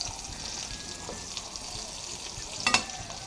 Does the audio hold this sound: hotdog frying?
yes